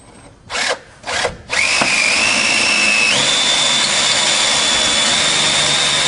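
A couple of short bursts from a power drill, then a sustained high whine as it bores steadily through material with a 1/8 inch bit, loud and close.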